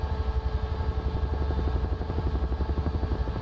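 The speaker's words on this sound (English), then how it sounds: "Can you hear the helicopter?" UH-1H Huey helicopter in Microsoft Flight Simulator, hovering with a steady rhythmic rotor slap over a low, loud engine drone that continues unbroken throughout.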